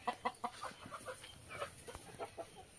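Chickens in a newly built henhouse cluck in quick, uneven bursts close by, one sharp call following another with light outdoor background noise and no talking.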